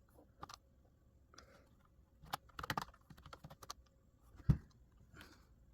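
Keys clack on a computer keyboard as a diskpart command is entered, a sparse run of quiet clicks with short pauses and one louder tap near the end, no voices.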